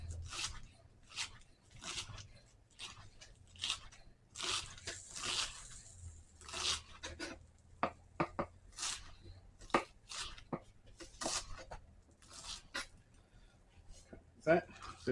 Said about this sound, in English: Now, lettuce wise, don't need tons, but cut it really thinly.